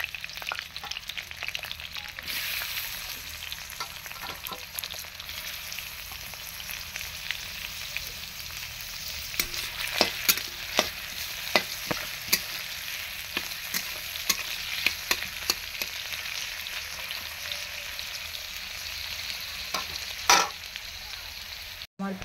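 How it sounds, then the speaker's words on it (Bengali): Onions fry in a pan in a village kitchen, a steady close sizzle with scattered sharp clicks of a spoon stirring, and nobody talking. "তারপর পেঁয়াজগুলো দিয়ে দিলাম"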